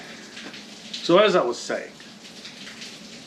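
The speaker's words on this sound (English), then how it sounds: "it is pouring rain, as you can probably hear in the background." Heavy rain pours outside as a steady hiss in the background while someone talks briefly over it up close.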